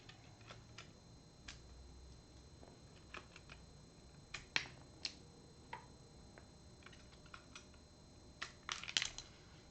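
Keys clack on a Rama Works M60 mechanical keyboard with Sacramento switches and a poly plate, producing faint, irregular clicks and a few louder taps close by, with no speech.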